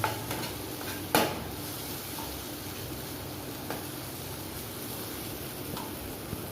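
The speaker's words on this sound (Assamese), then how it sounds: "লৰাই থাকিব বিলাহীখিনি, যাতে লাগি নাযায় তলত" A spoon stirs chopped tomatoes in a pan for dal tadka: soft, steady scraping and a faint sizzle, with a sharper clink near the start and a few lighter knocks later. No one speaks.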